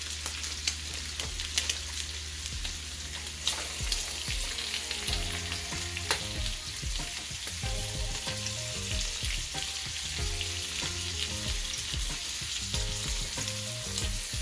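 Garlic butter shrimp fry in a crowded frying pan with a steady, close broadband sizzle and crackle, plus a few scraping stirs and clicks, and no talk.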